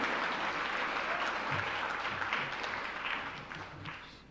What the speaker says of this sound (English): keep that applause going, keep that applause going